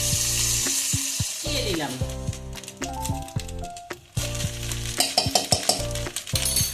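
Chicken sizzles in a pan while Chinese fried rice is being cooked, a steady hiss and crackle running beneath a speaking voice and a strong tonal background sound.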